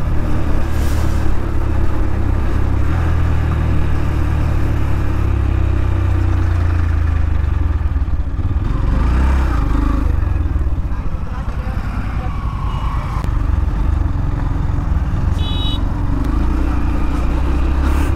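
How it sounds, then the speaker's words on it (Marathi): Heavy traffic rumbles on the Mumbai Goa highway, a dense continuous roar of car and motorcycle engines idling and creeping close by, with voices talking faintly over the steady drone. "बाबो, खूप मोठा ट्रॅफिक लागलाय."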